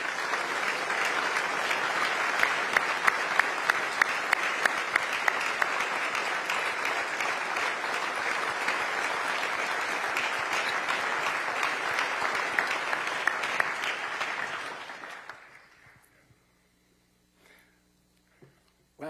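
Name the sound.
applause for city directors at State of the City address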